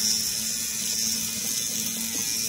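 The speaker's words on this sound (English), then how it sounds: "But what's cool, we got a little electric toothbrush." An electric toothbrush hums with a steady, close, moderately loud buzz that runs unbroken through the whole moment as a turtle is bathed, with no voices.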